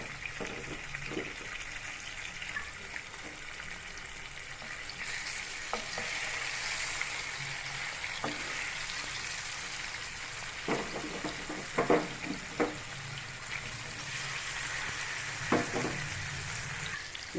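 Fish fries in a pan with a soft, steady sizzle that crackles on throughout, broken by a few sharp clinks and scrapes of a utensil against the pan.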